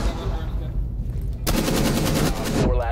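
Automatic gunfire in the tactical shooter Rainbow Six Siege, a sustained loud burst starting partway through and running to the end, with a quieter stretch of game ambience before it.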